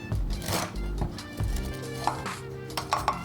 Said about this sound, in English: Grate the cheese in a container or small bowl.